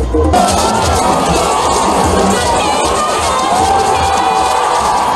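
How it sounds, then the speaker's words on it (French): Large crowd packed into a prefectural stadium at a political rally, roaring and cheering continuously, loud and dense with shouts and whistles throughout. "la foule dans le stade préfectoral est encore plus impressionnante"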